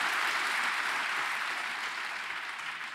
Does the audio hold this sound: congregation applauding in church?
yes